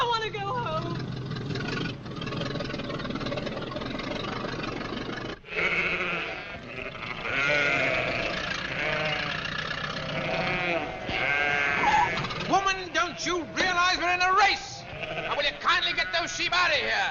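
Sheep bleating in a 1955 film, a flock calling repeatedly with wavering cries over a busy, noisy background soundtrack, fairly loud and continuous.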